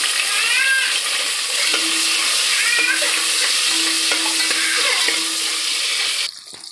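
Tomatoes hit hot oil in a pan for a macaroni dish, giving a steady bright sizzle with a few stirring scrapes, close and continuous before cutting off abruptly near the end.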